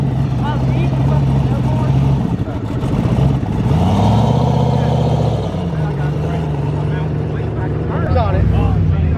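A drag racing car on a full pass gives a loud, close engine roar that rises and falls in pitch over several seconds, while people talk over it.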